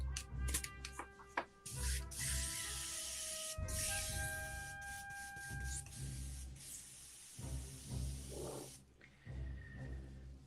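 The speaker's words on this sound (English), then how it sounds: "The joys of airbrushing, ladies and gentlemen." An airbrush sprays paint onto a custom Star Wars Black Series Han Solo Endor figure, producing long steady hissing bursts of compressed air broken by brief pauses and faint clicks, close to the listener without talk.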